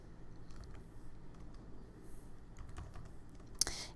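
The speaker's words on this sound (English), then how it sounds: "let's just say we type in some numbers" Quiet, rapid keystrokes on a computer keyboard as numbers are typed into a layout program, a soft irregular patter with a sharper click near the end and no voices.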